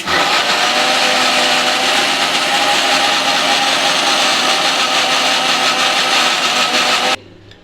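A mixer grinder grinds coconut with masala paste for a fish curry, a loud, steady whirring motor roar with a gritty edge that runs continuously for about seven seconds, then cuts off abruptly.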